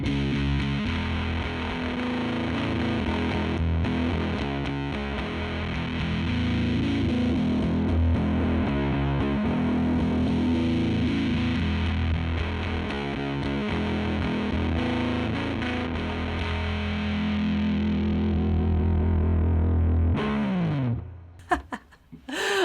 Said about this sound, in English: So far we've put fuzz on both the high and the low of this pedal